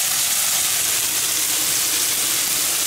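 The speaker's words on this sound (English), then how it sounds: "You can hear it sizzling now." Steady, loud sizzling hiss of food frying in a hot pan, continuous and close, with no voices.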